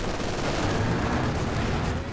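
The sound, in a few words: artillery barrage in the video game Company of Heroes 2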